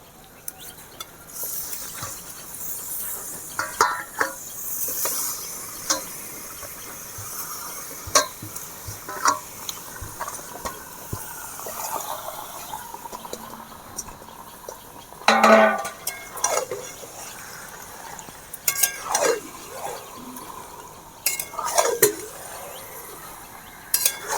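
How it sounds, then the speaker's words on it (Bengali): A spoon stirring chicken with spices in a cooking pot: repeated metallic clinks and scrapes against the pot in an uneven rhythm, close and moderately loud, with soft wet shuffling between strokes. "ভালো করে মশলার সাথে চিকেনগুলো নেড়ে নিয়েছি"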